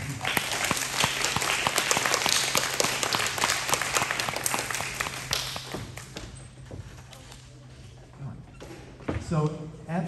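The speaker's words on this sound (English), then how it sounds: "Give them a round of applause." Applause at a graduation ceremony, a loud crowd clapping for several seconds that gradually dies away, with a few taps and shuffles, followed by a voice speaking near the end.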